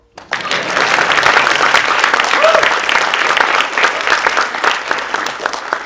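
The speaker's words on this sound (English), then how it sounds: "You guys can clap at that." An audience at a full-stack web development fellowship demo day breaks into sustained, dense clapping that starts abruptly and holds steady to the end.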